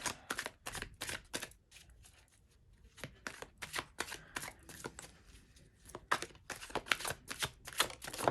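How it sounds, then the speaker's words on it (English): Tarot cards are shuffled by hand, crisp close riffling bursts repeated in quick clusters with short quiet gaps between them, no talking. "Sometimes the cards just really want to shuffle."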